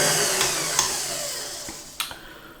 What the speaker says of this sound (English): Now we need to whip that cream.